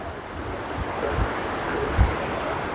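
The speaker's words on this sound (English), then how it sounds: "And the river is certainly roiling." A river roils downstream from a dam, giving a steady, broad rushing wash with small surges, heard from the bank under light wind.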